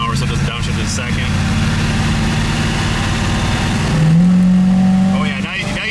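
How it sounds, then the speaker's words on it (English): A Chevrolet IROC 350 V8 runs on a dyno with a steady, loud engine drone and induction roar that climbs in pitch as it revs near the end, with talk mixed in. "now you can really hear the induction sound"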